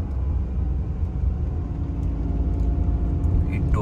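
Car travelling along a highway in the Konkan region, a steady low engine and road rumble that holds at an even level throughout, close and continuous.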